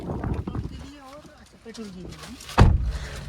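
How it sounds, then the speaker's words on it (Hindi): A voice talks, then the door of a Honda Accord shuts with one heavy, solid thud close by. "ये डोर को जो बंद करने में जो धड़ की आवाज आती है ना, बड़ा सुकून देती है"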